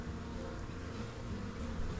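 Dense, steady drone of a honeybee colony buzzing around an opened hive during an inspection, close and continuous with no talking.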